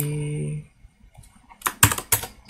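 Computer keyboard keystrokes while pasting a file name during an Express.js deployment, a few sharp, close clicks and a short burst after a voice trails off.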